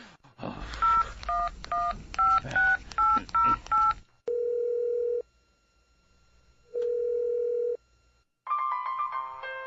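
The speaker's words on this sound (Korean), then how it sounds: "한 번만 더 전화를 해보자." A phone number is keyed in as a quick run of DTMF beeps, then two long steady tones sound with a pause between them and a burst of mixed tones follows, all close and clear with no voices.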